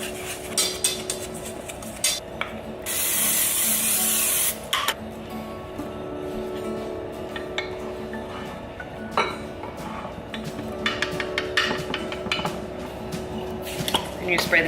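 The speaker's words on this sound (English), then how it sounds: "And you spray the top with oil as well." A short hissing spray burst lasting about two seconds, set among kitchen clatter of dishes and utensils.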